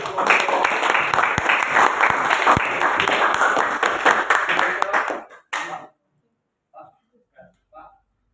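A classroom full of students applauds after a group presentation, with dense, steady clapping for about five seconds before it stops abruptly. A few faint, scattered sounds follow in the quiet.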